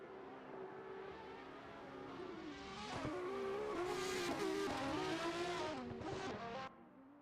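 A Ferrari drift car from a virtual drift championship in a racing video game revs hard with rising and falling engine notes while its tires squeal through a long slide, loud and close, with no talk.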